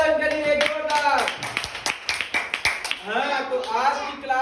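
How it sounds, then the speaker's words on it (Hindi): Schoolchildren in a classroom clap for a classmate, a burst of quick, loud, scattered claps in the middle, with voices speaking and singing out before and after. "बड़ी ताली बजाओ इनके लिए जोरदार"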